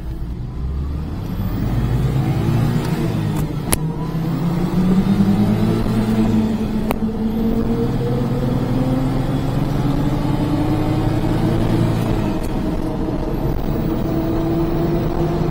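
Micro van engine fitted with a blow-through carburettor, warmed up and revving under boost, a loud continuous drone with rising and falling pitch sweeps across the whole stretch and a couple of sharp clicks.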